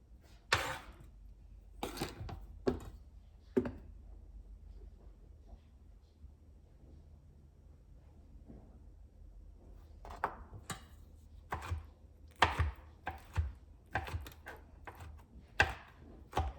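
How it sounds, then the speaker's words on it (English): A knife chops floured green cherries and pineapple on a cutting board in a home kitchen, making irregular sharp knocks in bursts with a long quiet gap in the middle. "So I'm going to chop all that up and then we'll mix that in by hand."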